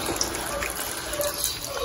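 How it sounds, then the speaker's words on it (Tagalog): Two cups of water are poured into a cooking pot of sinigang na bangus with camias, radish and pechay, making a steady, close rushing splash with no talk. "2 cups of water ang lalagay ko."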